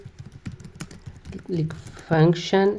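Quick typing on a computer keyboard, a brisk run of close, clicky keystrokes, followed by a person talking.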